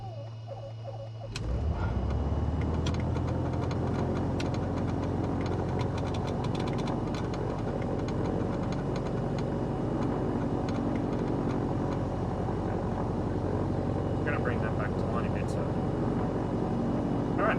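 A Piper PA-28 Arrow III single-engine light aircraft cranks over, catches and settles into a steady, loud idle that drones on continuously, with a voice talking over it.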